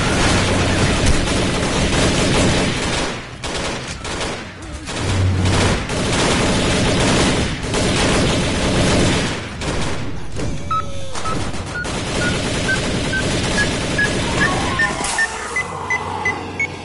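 Shotgun blasts and rapid gunfire from a Roblox zombie-wave shooter, loud and continuous bursts with in-game beeps near the end.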